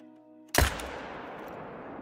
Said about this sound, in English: Let's see if we can't bust out the AR-308 and go for a perfect headshot.